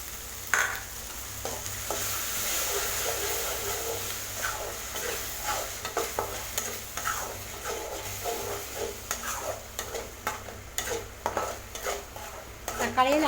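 Ground tomato frying in a pan with ginger-garlic paste for mutton curry: a loud, continuous sizzle with rapid clinks and scrapes of a metal spoon against the pan, with no talking.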